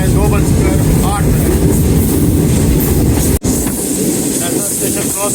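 The Green Line passenger train runs at high speed toward Karachi, recorded from on board. A loud, continuous roar carries rhythmic wheel clatter and hiss, with one abrupt momentary dropout near the end.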